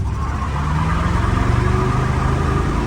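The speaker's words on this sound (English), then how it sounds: "And he lit up the tires." A Chevrolet El Camino launches off the line in a drag race, its engine roaring loud and steady while the tires spin for about three seconds with no one talking.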